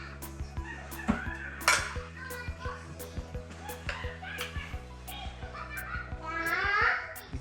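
A spoon stirs green aguachile sauce over fish in a bowl, making light scraping and clinking. Children's voices chatter over it throughout, with a steady hum beneath.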